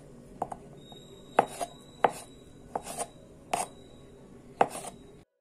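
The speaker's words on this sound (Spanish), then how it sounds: "Aquí vamos a cortar las aceitunas negras así, de esta manera." Knife slicing black olives into rounds on a board for a chickpea salad: about seven crisp, separate chopping taps at an uneven pace, close and clear with no talking.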